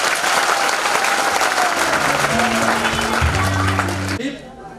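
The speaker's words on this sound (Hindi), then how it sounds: "तो ये दूसरा हाथ भी उठा के तालियां कर लो अपने लिए।" Loud, dense applause from a lecture audience clapping for themselves, continuous and close, with a low sustained tone entering midway before the clapping cuts off abruptly near the end.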